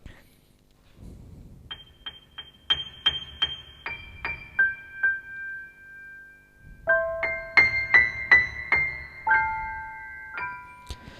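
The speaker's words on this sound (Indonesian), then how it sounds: "ini suara default pianonya ya teman-teman" The default piano sound of a Kawai MP7SE digital piano: notes played one after another, rising and ringing with sustain, then a pause and a second run of bright chords and notes.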